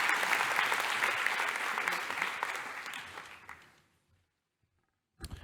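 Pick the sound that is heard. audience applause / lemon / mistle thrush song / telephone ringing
audience applause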